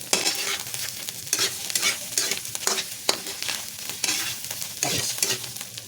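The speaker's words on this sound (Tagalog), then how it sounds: "Haluin natin" Pepper is stirred into bopis sautéing in a pan. A spatula scrapes busily in quick repeated strokes over a constant loud sizzle, close and with no talking.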